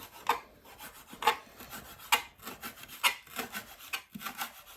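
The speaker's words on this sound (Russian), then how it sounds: "Режем укроп." A kitchen knife chops frozen dill on a cutting board in a steady series of close, rhythmic strokes, each a soft scraping thud, with no talking.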